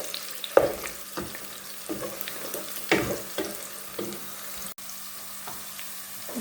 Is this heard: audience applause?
no